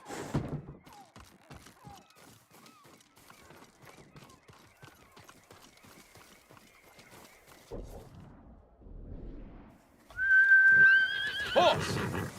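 A horse whinnies loudly near the end in the video game Ghost of Tsushima, a rising shrill neigh following quieter thuds and faint rustling.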